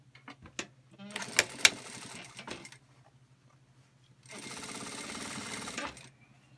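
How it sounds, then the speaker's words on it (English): A Singer industrial sewing machine stitches across the end of a bag in two loud rapid bursts, with a few knocks and clicks between them over a faint steady hum. "This end we're going to sew all the way across the end of the bag."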